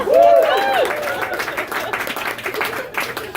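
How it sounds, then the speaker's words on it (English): Comedy club audience at the Buzzmill in Austin, Texas applauding a stand-up set, opening with a rising whoop or whistle over the crowd before steady clapping continues for a few seconds. "So give a round of applause for humanity"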